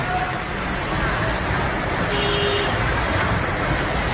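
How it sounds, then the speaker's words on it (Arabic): Heavy rain and a rushing flash-flood torrent in Sanaa, Yemen, make a dense, continuous, loud broadband roar throughout, with faint traffic sounds underneath. "سيل مطر"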